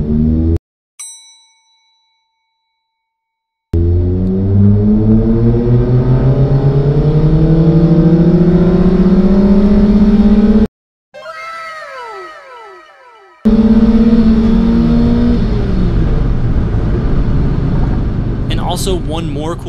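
A Mazda Miata engine with tuned variable valve timing accelerates hard in two separate pulls, its roar climbing steadily in pitch, loud and close, after a single faint ding at the start.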